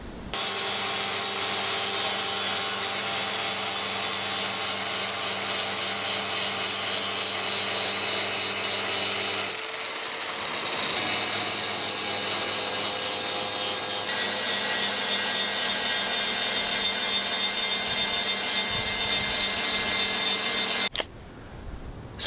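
A power grinder sharpening the edge of a metal blade for a sword build, a loud continuous high whine and grinding rasp that runs steadily for about twenty seconds, briefly shifting pitch midway before stopping abruptly.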